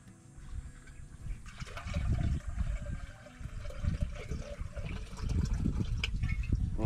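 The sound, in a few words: water poured into a clay pot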